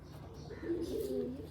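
A single pet pigeon up for sale gives one short, close, soft throaty coo, rising and falling over a faint background.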